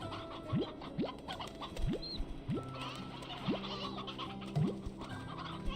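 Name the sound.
roosters clucking in video game Slime Rancher 2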